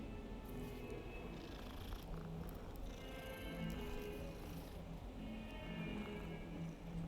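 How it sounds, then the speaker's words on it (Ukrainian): A cat purrs in the Hogwarts Legacy video game, a soft, continuous rumbling that runs through the whole stretch at a low, even level under faint ambient game sound. "О, кіт ходить."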